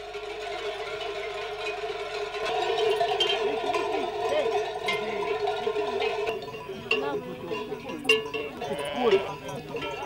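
A flock of sheep bleating continuously during a transhumance drive in the Cévennes, many overlapping calls near and far, with faint clinks of bells among them.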